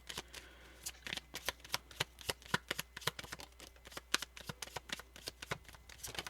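Tarot cards being shuffled by hand in a quiet room: a fast, irregular run of crisp, close riffling snaps and soft slides continuing throughout, faint and alone without talk.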